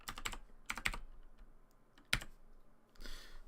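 Computer keyboard typing during work in After Effects: a few scattered key clicks in small clusters, quiet and close, with gaps between presses and no speech.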